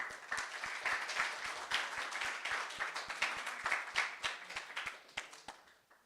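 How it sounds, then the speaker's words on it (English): An audience at a high school poetry awards event applauds with sustained, dense clapping that gradually fades toward the end. "Let's give him a round of applause."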